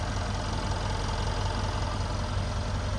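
A Mercedes E63 AMG engine with low compression in one cylinder idles continuously, a dense, steady rumble heard close up with a faint irregular pulse and no voices.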